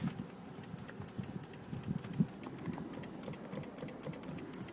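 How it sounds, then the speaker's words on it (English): Faint, regular clicking repeats steadily from a faulty 2011 Volkswagen Jetta horn over a low engine idle, with no honk sounding. "all you get is a clicking sound."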